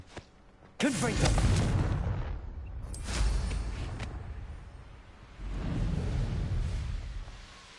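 The Confringo explosion spell in the game Hogwarts Legacy, heavy booming blasts with rumbling low-end tails, two loud eruptions followed by a third swelling roar, with a voice briefly heard among them.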